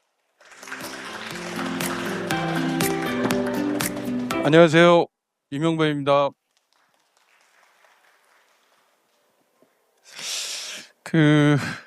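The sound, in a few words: audience applause welcoming the speaker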